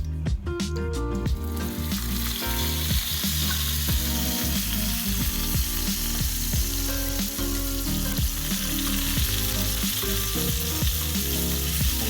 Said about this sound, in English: Very carefully add our steaks